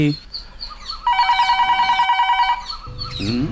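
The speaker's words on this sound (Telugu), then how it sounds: "మాటలోనే ఫోన్ చేశాడు." A telephone rings with a steady warbling electronic trill of rapid repeated pulses lasting over a second, set inside a film scene with talk before and after.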